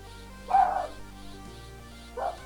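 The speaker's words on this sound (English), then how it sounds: "Apparently dogs are getting outside again." Dogs barking outdoors, heard as two short muffled bursts of barking at a distance, separated by a pause, over a low steady background hum.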